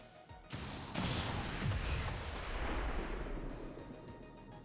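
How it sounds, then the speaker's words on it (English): A rocket launched in XCOM 2 Long War of the Chosen bursts with a sharp blast, then a rumbling explosion and crumbling debris that swells and slowly fades over several seconds. "Firing rocket."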